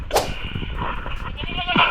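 Goats, including a male, bleat on an island farm in Banton, Romblon, a sharp nearby cry followed by another bleat near the end over steady outdoor background noise.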